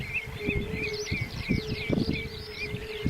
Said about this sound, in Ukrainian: Токують травники